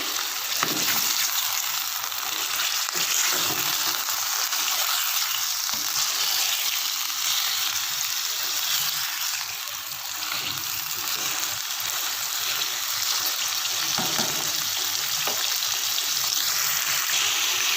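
Chicken pieces frying in a pan for restaurant-style karahi, giving a loud, steady, close sizzle with occasional stirring scrapes and no talk.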